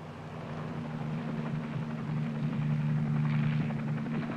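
An Army H-34 helicopter lifts off for a pathfinder operation, its steady low rotor and engine drone holding throughout and swelling slightly louder toward the end, with a broad rushing wash of noise above it.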